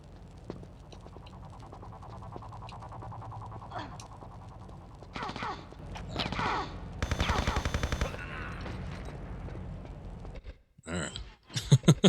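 Enemy gunfire in Tomb Raider Chronicles: a rapid burst of crackling shots in the middle stretch over low game ambience, with a few sharp isolated bangs near the end.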